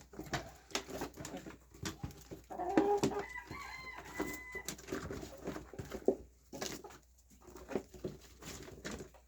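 Hens cluck softly in irregular bursts, with a few higher calls mixed in, fairly close and unaccompanied by talk.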